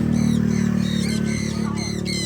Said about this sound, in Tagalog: Competition ng ibon.